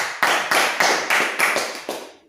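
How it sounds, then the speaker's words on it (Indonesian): Students in a Qur'an and Hadith classroom lesson clap together in unison, six loud, evenly spaced claps ringing with room echo, each one decaying before the next. "tepuk tangan"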